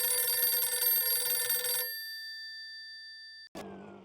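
A phone rings inside a rickshaw, a steady electronic ring over engine rumble for about two seconds, then cutting off, followed by a brief click and quieter cabin noise.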